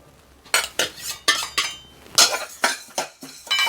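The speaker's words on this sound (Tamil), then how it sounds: "இந்த டைமில் வந்து இப்போ வந்து நம்ம உரிச்சு வச்ச பூண்டை வந்து நம்ம போட போகிறோம்." Peeled garlic goes into a hot pan for urad dal porridge, bringing a series of sharp metallic clinks and scrapes from a spoon against the pan in uneven bursts, close and fairly loud, with no talking.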